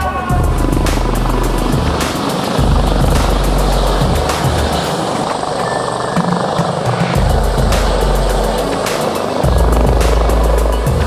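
A Yorkshire Air Ambulance helicopter takes off nearby, its rotor blades beating in a loud, rapid rhythmic chop over a steady engine roar that fills the whole stretch without speech.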